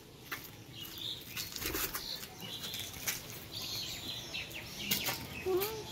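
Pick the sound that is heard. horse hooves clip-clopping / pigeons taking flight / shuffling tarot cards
pigeons taking flight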